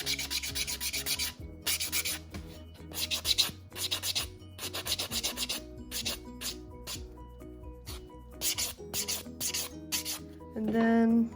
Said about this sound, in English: I take my buffing block and I just go over.